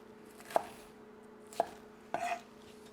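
Knife slicing through baby bok choy on a cutting board, three crisp, separate chops about a second apart, close and clear over a quiet background, no talking.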